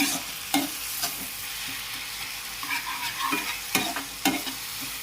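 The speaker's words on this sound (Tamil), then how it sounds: "இஞ்சி பூண்டு தட்டி அதையும் கொஞ்சம் வதக்கலாம்." Crushed ginger and garlic sauté with onion and tomato in a pan for spicy prawn thokku. A continuous sizzle runs under repeated sharp strokes of a spoon scraping the pan, close and with no voices.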